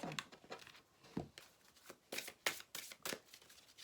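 Tarot cards slid and drawn from a deck, a series of soft, quick papery flicks and shuffles, close and quiet with no talk.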